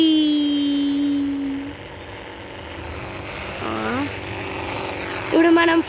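An airplane engine drones in a 3D Indian bike video game, a steady propeller hum heard near with some tonal game sounds and brief electronic blips over it; a voice talks over the noise.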